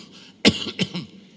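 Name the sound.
speaker imitating a fake cough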